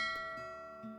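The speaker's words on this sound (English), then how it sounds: "God, that bell's loud." A loud church-style bell rings out with a long, sustained metallic tone that slowly decays, a fresh strike returning near the end; no one speaks.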